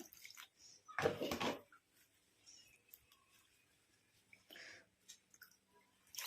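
Water splashes and swishes in a container as hibiscus flowers are washed, then quieter drips, rustling and handling sounds, with another short splash later.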